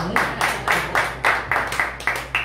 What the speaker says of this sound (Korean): 그쵸, 박수 쳐야죠.